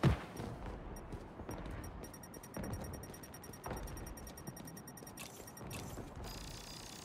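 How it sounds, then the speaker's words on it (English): Fireworks bursting in the Marvel's Spider-Man 2 video game, a quick run of sharp crackling pops and bangs at a distance, fairly faint, with no talking over them. "Fireworks? Better warn those guys they're illegal here without a permit before someone calls the cops on them."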